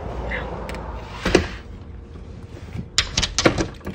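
A sharp thunk of a door bumping into a person, followed by a few quieter knocks and rattles nearby, with no voices.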